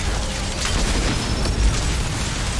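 A grenade explodes in the video game Mass Effect 2, a deep booming blast with a dense low rumble that lasts the whole stretch amid steady game noise, with no talking.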